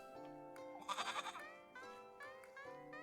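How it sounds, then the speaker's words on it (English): A goat in the Little Goody Two Shoes video game lets out a trembling bleat that wavers at its peak. It is preceded and followed by tonal, musical game sound. "Goat noises."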